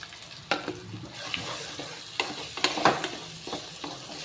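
Soaked soya chunks go into a pan of hot oil and are stirred, producing a bright sizzle with repeated scraping and knocking of the spoon against the pan, close and without speech.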